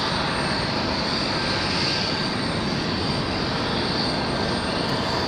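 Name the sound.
Delta Airbus A320 or A321 jet departing runway 23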